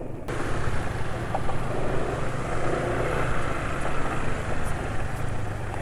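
A steady, low engine hum runs without pause, a smooth idling drone with no voices over it, from an engine running on oil with sesame oil added as an additive.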